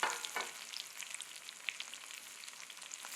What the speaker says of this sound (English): now we'll add in the bodi